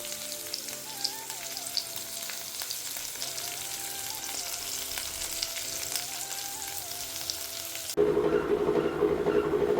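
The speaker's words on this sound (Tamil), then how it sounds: "சின்ன வெங்காயம் வதக்கியிருப்போம் பார்த்தீங்களா" Small onions sautéing in oil for a Sunday mutton kulambu, a steady close sizzle and crackle that grows louder and denser near the end.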